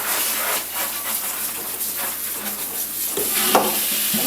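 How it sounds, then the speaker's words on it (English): Beets are dropped and stirred into a kettle of water, giving a steady wet sloshing, rustling hiss with a few louder splashes and knocks near the end, close up and without talking. "And in the kettle they go."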